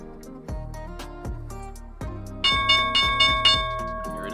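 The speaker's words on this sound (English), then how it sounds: "Alright, guys, here's the bell." The stock market opening bell rings in a steady series of loud, sharp metallic strikes with long ringing decay, growing brighter partway through, heard alone with no talking.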